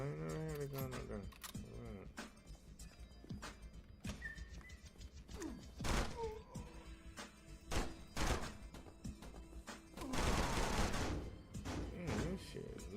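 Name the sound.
gunfire in a video game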